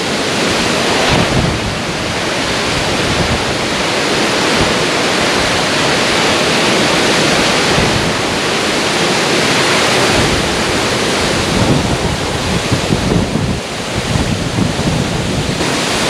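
Yung Thong waterfall in Na Yung-Nam Som National Park, Udon Thani, roars steadily and loudly throughout, a dense, unbroken rush of falling water with no voices.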